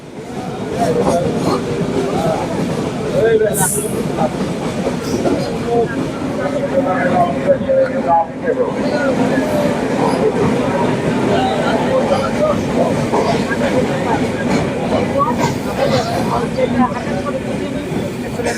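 The Chilahati Express train rumbles along steadily from inside a carriage, a continuous loud roar with rattling, and passengers' chatter mixed in throughout.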